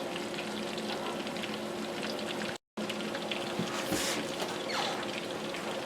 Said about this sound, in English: Pan frying chicken.